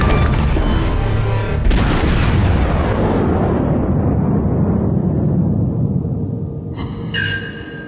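A battleship's main guns fire in the World of Warships game, Wyoming class: one loud, booming blast rolls out and decays over several seconds, followed by a brief sharper crack near the end.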